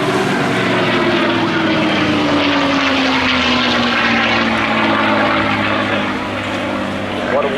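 North American P-51D Mustang flying at the Eastbourne airshow, a loud piston-engine and propeller roar with a falling pitch as it passes, easing off slightly near the end.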